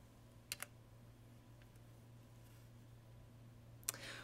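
Metal flute foot joint being fitted onto the body, giving a few faint, close clicks and taps of the keys and tubing at the start and again near the end, with quiet room hiss between and no talking.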